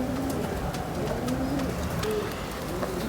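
Soft, low cooing from a close-by pigeon, a breeder's soft-feathered Ferozpuri-type bird, repeating in a few short bursts over steady background noise, with no speech.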